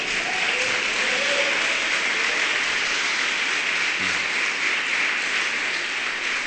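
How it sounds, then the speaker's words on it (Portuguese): A church congregation applauds during a worship service, sustained broad clapping that fills the room evenly, with faint voices underneath. "Dá uma salva de palmas para Jesus."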